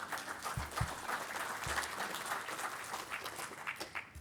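Applause and cheering greet new employees at a Lakewood welcome gathering, a steady wash of clapping from a crowd with a few low thumps, moderately distant and lasting the whole stretch.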